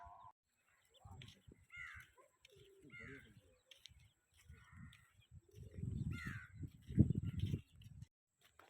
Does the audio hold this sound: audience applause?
no